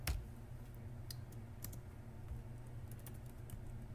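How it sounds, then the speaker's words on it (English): Keys clatter on a computer keyboard as a networking command is entered for port channel configuration, a steady run of soft clicks with a few sharper taps over low background hum, no voices. "So I'm going to type channel group,"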